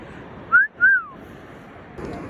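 A metal detector pinpointer gives two short, rising electronic chirps in quick succession, clear and moderately loud over quiet outdoor background hiss.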